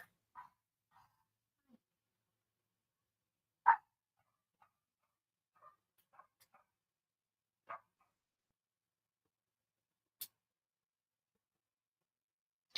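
Dogs bark indoors in short, scattered bursts, mostly faint and distant with one louder sharp bark, separated by long stretches of silence.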